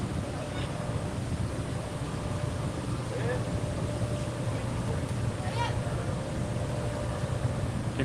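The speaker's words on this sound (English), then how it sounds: "You can hear the engines for the wave pool." The engines of a water-park wave pool make a constant low mechanical drone throughout, steady and fairly loud, with faint wind-like rushing and no breaks.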